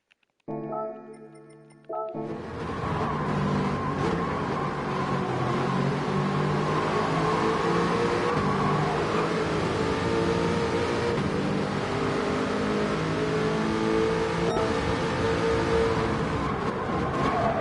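An Aston Martin GR4 race car in a racing game holds a steady full-throttle engine drone after a brief quieter start, loud and continuous, with no talking over it.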